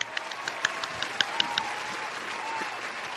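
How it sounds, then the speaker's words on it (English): A crowd applauds steadily, with dense clapping and scattered louder claps throughout. "Let me give you applause and all like everyone else."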